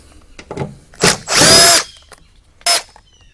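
A power drill backs out the stock screws from the side of a 2004 Jeep Wrangler TJ in short bursts: a couple of brief whirs, one longer whine near the middle, then a final quick spin, close up with quiet gaps between.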